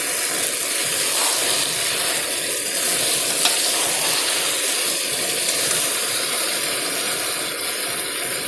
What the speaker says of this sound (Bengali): এবার আমি এই ফেটিয়ে রাখা টক দই আর ওই ভাজা মশলাটা দিয়ে